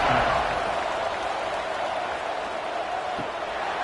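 Football stadium crowd at a Western Kentucky at Minnesota game roaring steadily through the kickoff, a broad, loud, continuous wash of cheering with no clear gaps.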